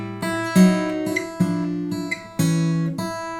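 Fingerstyle blues guitar plays a turnaround with a descending chromatic line, slow plucked notes and chords ringing in a clear sequence of about four strikes, played alone.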